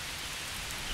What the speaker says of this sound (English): I can barely hear you through all this rain